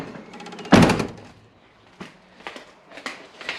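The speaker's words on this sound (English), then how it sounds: "The door shuts." A Mitsubishi Pajero door swings shut with one loud, solid thunk, followed by a few fainter knocks and rattles inside the vehicle.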